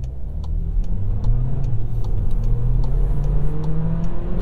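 A 2022 Volkswagen Taos SEL 4Motion with a 1.5 liter turbocharged four-cylinder accelerates from inside the cabin, its engine drone rising steadily in pitch, loud and continuous over faint road noise.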